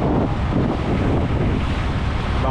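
Rough, choppy sea with steady wind buffeting the microphone on a small boat pounding through waves offshore, a continuous loud roar of wind and splashing water with no voices.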